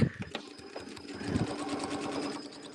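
A sewing machine stitches fabric pieces placed right sides together for a winter fan blade quilt block, running steadily and fairly loud up close after a few uneven starting stitches.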